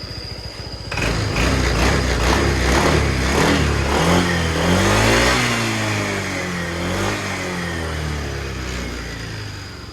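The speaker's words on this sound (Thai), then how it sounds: "ฟังเสียงเครื่องยนต์กัน" A 2023 Honda PCX 160 scooter engine starts and runs steadily nearby, revving up briefly before settling into a smooth, continuous hum.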